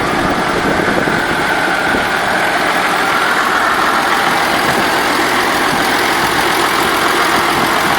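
Four tractor engines idling in a field during spring sowing, a loud, steady, dense diesel rumble with broadband roar and no pauses throughout.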